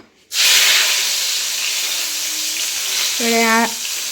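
Black cumin and cumin seeds tempering in hot oil for mango pickle oil over a high gas flame, a steady loud sizzle and hiss that bursts in and holds, with a brief tonal ring near the end.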